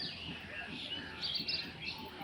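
High-flying racing pigeons chirp and call in short bursts as they come down to drink water, with fledglings nearby. The calls are moderately loud over a low murmur of background voices.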